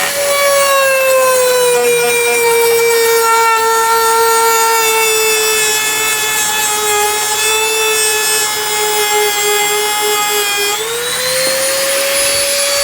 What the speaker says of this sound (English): So now we're going to Dremel this down.